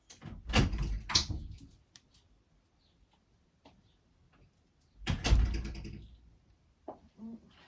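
A house door is opened to let a dog named Willow outside on a windy day, giving two bursts of handling clatter and rushing wind a few seconds apart, with quiet in between and a faint knock near the end.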